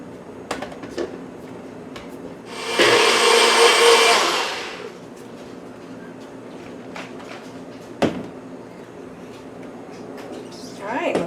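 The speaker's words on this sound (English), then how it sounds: "So let's pop on the lid. And I'm going to get this all blended together." A countertop blender whirs loudly for about two seconds as it mixes homemade yogurt, raw honey and frozen fruit, with clicks and clunks of handling before and after it.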